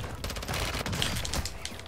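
Rapid automatic gunfire crackles through a Warzone 2 match, a continuous fusillade of shots in the distance under the game's ambient sound, with no voices.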